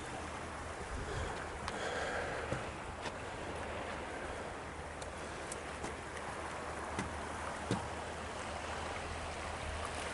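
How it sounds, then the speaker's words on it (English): The Paw Paw River flows in the town of Watervliet in southwestern Michigan, a steady broadband rush of moving water heard close throughout with a few faint ticks and no talking. "This is the Paw Paw River in southwestern Michigan."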